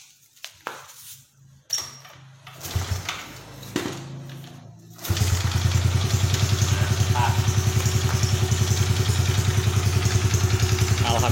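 A Honda Supra motorcycle fitted with a Revo FI ECU cranks with clattering attempts, then catches and settles into a loud, steady, rapidly pulsing idle close by.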